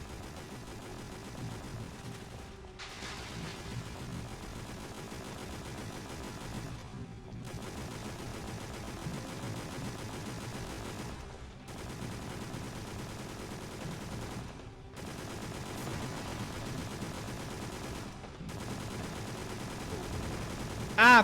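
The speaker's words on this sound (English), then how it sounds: "Also, Roger with a saw, M249 saw, misses everything." Steady bursts of M249 SAW machine gun fire from the PS2 survival horror game Extermination, several long sustained volleys separated by brief pauses, loud and continuous over game ambience.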